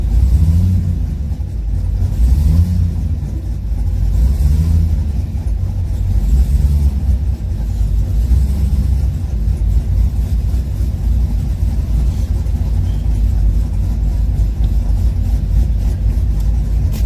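Rumble of an old Chevrolet Caprice engine, a loud, steady low drone with mild swells as it revs, continuous throughout without any talk.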